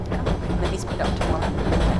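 Train running at speed in Train Simulator 2014, the fastest train in the game; a steady rumbling roll with rhythmic rail clicks and thumps, loud and continuous from the cab.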